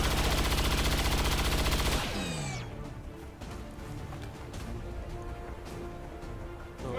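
Gunfire aimed at a turret in XCOM 2: a loud, dense burst of shots for about two seconds, then a ringing tail and scattered softer game sounds with no talking.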